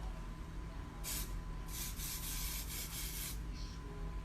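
Several short hissing bursts of Patrick Ta Beauty Major Glow setting spray, one then a quick run of pumps, over a quiet steady background hum.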